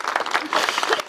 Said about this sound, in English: Let's give a quick round of applause for everyone.